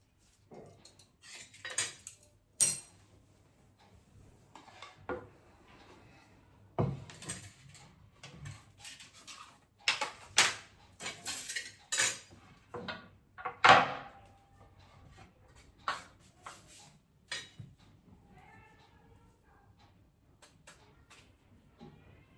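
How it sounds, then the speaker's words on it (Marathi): A knife chops raw green mango on a board, sharp irregular knocks and taps repeating through the clip at close range, with clinks of kitchen utensils and no talking. "आता ही छान चिरते."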